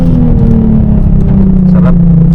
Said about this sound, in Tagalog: Ganda mag-downshift ito guys